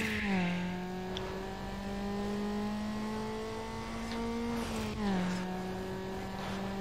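A Mazda Miata race car engine in Need for Speed Underground drones steadily at high revs, dropping in pitch at two gear shifts. It sounds moderately loud and close, with faint talk underneath.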